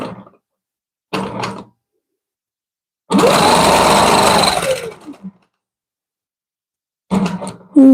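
A longarm quilting machine stitching around a quilt whirs in separate mechanical bursts: two brief runs, one sustained stretch of about two seconds that winds down, then another short run, with silent gaps between.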